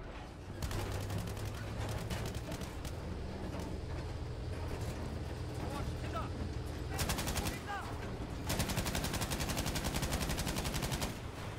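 Battlefield 5 combat: rapid, near-continuous machine-gun fire rattles through almost the whole stretch, pausing briefly and then resuming in tight repeating bursts over a constant battlefield din.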